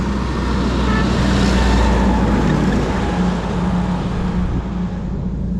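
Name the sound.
logging trucks passing on a jungle road in Congo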